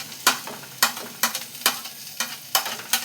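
Chopped onion fries in a pan with chili powder while a spoon stirs it, producing a rhythmic series of crisp scraping strokes over a steady sizzle, close and fairly loud.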